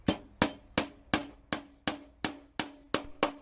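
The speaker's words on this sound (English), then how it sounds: "So I'm just nailing a piece of wood on there to take the other side of the router so it won't rock about." Hammer strikes on nails driven into a piece of wood, nine sharp evenly spaced blows with ringing decays, close and loud, no talking, while fixing a support beside a router during oak brace making.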